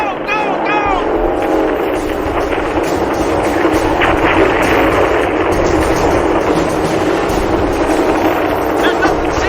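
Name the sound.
jets bombing and gunnery positions firing, TV episode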